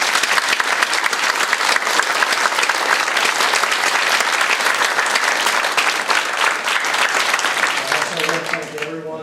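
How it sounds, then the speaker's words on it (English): An audience at a public forum in Stillwater, Oklahoma applauds candidates with loud, dense, continuous clapping that tapers slightly at the end as a voice begins. "So let's give them a great round of applause"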